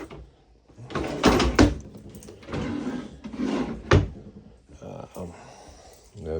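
A brand new maple cabinet drawer piece is handled inside an RV being converted into a tiny home, with several sharp wooden knocks and bumps between quieter rustling, while a person talks.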